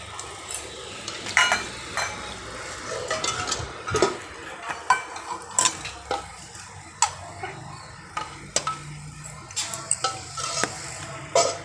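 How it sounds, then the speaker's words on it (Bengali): Luchi fry in oil in a kadai, a continuous gentle sizzle broken by repeated sharp clinks and scrapes of a metal utensil stirring and turning them, irregular and close. "লুচি ভাজা হচ্ছে এখন"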